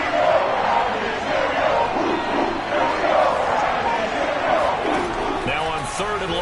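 Simulated stadium crowd noise from Cleveland's home fans in the Madden 22 football game, a steady roaring crowd with swelling cheers throughout, under game commentary.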